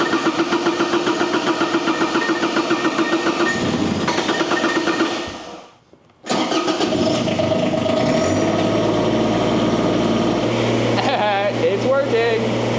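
A Bobcat skid steer engine runs loudly close by with a rapid throbbing idle, dies out briefly and then restarts and keeps running, with someone talking over it near the end.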